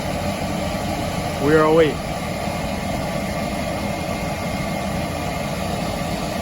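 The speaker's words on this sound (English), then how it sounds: "Pilot, my flame, my main valve is open. I'm firing high fire right now." A Beckett burner on a steam boiler firing at high fire, giving a steady, even mechanical roar and hum, with a brief spoken phrase near the start.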